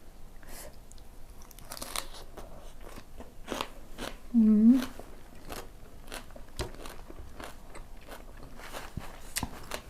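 Crunchy bites of Thai som tam with fresh shrimp and crisp lotus stems, topped with lead tree seeds and served with cha-om, bitter melon and winged beans; close, scattered crunches and chewing, with a louder burst midway and a voice murmuring.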